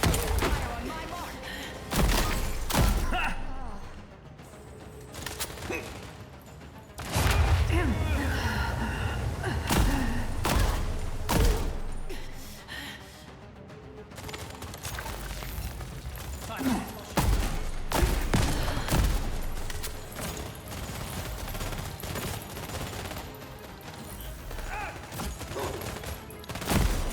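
Gunfire rattles through a firefight in The Expanse: Osiris Reborn, with dense bursts and heavy thumps running throughout the whole stretch, loud and continuous, and voices shouting over the combat.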